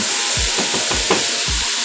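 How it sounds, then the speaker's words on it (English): Vegetables fry with a steady sizzle and soft broadband hiss, broken by a few low scraping stirs in a pan, close and fairly loud throughout. "once we hear it sizzle and start to saute"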